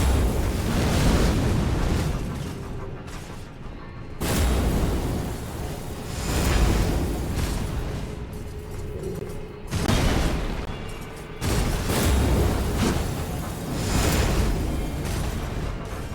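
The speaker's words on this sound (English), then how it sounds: "I'm gonna have to ask you to stop with fire breath" Fire breath attack from an Elden Ring boss: loud roaring, blasting bursts of fire that swell and fade in waves, with broadband rumbling surges repeating every few seconds.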